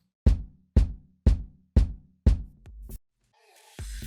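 Five dry, unprocessed kick drum sample hits land evenly about half a second apart, punchy and close, followed by a short burst of other clutter.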